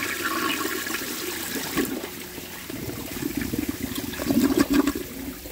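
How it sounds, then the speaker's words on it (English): A 1905 forward trap toilet flushes on about 1.6 gallons, a steady rush of water into the bowl that swells and gurgles toward the end, heard alone with no voices. "I'm going to flush it and then close the flapper"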